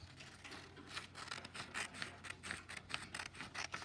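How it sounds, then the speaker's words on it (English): A sheet of paper for a classroom foldable is snipped in half with scissors, a string of quiet, rapid crisp cuts in close succession with faint rustling and no speech. "what we're gonna do is cut it in half"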